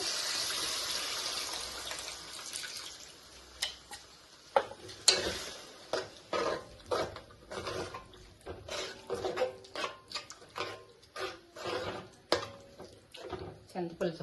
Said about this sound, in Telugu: ఇప్పుడు దానిలో మనం చింతపులుసు పోసేద్దామండి